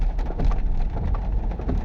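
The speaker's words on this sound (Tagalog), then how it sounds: "Medyo humina yung ulan pero hindi pa naman siya tumitigil" Steady typhoon rainfall patters across the whole recording, a dense continuous hiss with scattered drops tapping nearby.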